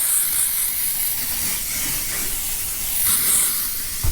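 Spray starch hissing in steady bursts onto a curtain being ironed, a close, continuous airy spray with faint bumps and clicks from handling and no talking.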